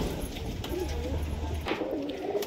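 High-flyer pigeons at a house in Liluya, Howrah, give a low, steady cooing murmur that runs through the whole moment, close and fairly loud, with no talking.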